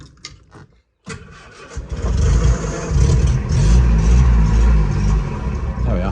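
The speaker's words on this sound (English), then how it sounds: "she's starting up quite nicely. I'm going to leave her running on a little bit of choke." A 1960 Bedford CA Dormobile engine cranks and catches after a short pause, then settles into a loud, steady rumbling idle on a little choke, close up.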